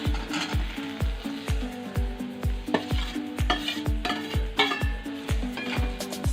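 Raw banana pieces frying in a pan for a spiced banana vegetable dish: rapid, rhythmic metallic scraping and clinking of a spoon stirring, roughly two strokes per second, over a continuous close sizzle.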